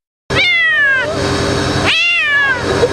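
A rescued cat meows loudly and close, two long drawn-out cries with a short gap between them.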